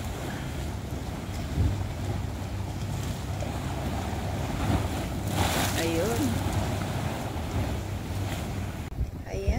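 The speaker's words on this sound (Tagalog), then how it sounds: "So humahampas yung mga alon" A storm drives a steady roar of wind and crashing waves against the Rovinj shore in Croatia, under constant microphone buffeting, with a person speaking briefly over it.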